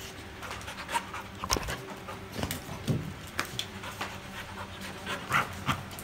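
A small street-dog puppy pants steadily and fairly close, with quick breathy huffs, a few faint whimpers and light handling noises throughout, and no speech.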